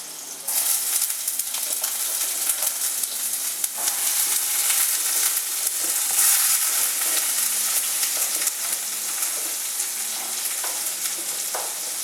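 Red onions frying in a pan over turned-down heat give a steady, dense sizzle and crackle that runs unbroken and fairly close throughout, with occasional faint stirring scrapes and no talking.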